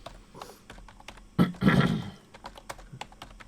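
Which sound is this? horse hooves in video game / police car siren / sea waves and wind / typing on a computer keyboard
typing on a computer keyboard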